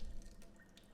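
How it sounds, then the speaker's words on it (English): A household tap runs to drain the water pipes ahead of a freeze, giving a steady, faint splashing and trickling into the drain with no voices. "Now we're back in the house and we're gonna run the water"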